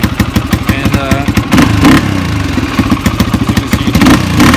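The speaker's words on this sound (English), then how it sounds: "It's still smoking and it's still running very poorly." A Honda XR250R motorcycle engine runs poorly, its rough idle chugging in an uneven, loping rhythm up close with clattering and brief rises in revs, smoking as it runs.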